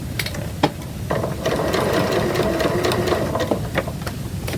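A sewing machine runs steadily while stitching a pieced fabric seam, a close, loud mechanical whirr with rapid rhythmic ticking from start to finish.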